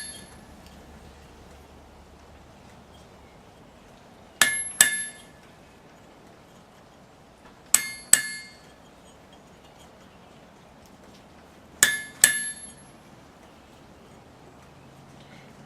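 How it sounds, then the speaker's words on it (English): A hammer strikes a chisel cutting into a hot forged steel leaf. Three pairs of sharp, close metallic clinks ring out, with the two strikes in each pair close together and quiet pauses between the pairs. "stick it between your legs and start chiseling away"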